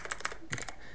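Keys tapped on a computer keyboard in a quick burst of several clicks, a short pause, then a few more keystrokes, close and clear with no voices.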